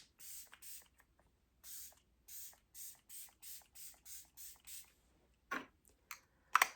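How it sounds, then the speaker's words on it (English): A pump spray mister of Physicians Formula makeup setting spray fires about eight quick hissing bursts in a steady rhythm, then a few sharper sprays and clicks near the end, close and fairly quiet. "I'm going to do setting spray"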